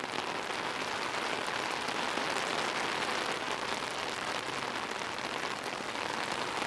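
Heavy rain pours steadily on a Paris street in the evening, a dense, constant hiss of drops on hard surfaces with no break and no voices.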